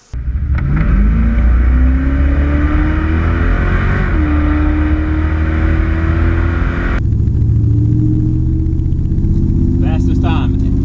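A full-size truck with a 360 engine accelerates hard down a drag strip, its engine note climbing loud and close through gear changes, with a drop in pitch at a shift and a steady roar after.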